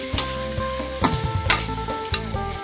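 Spicy mushrooms stir-fried in a pan, steady sizzling broken by about four rhythmic scrapes and tosses of a spatula against the metal, close and fairly loud with no talking.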